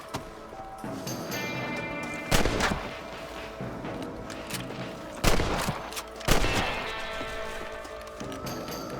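Gunshots ring out while shooting rabbits in Red Dead Redemption: three sharp, loud cracks spaced a few seconds apart over steady background ambience, with faint horse hooves.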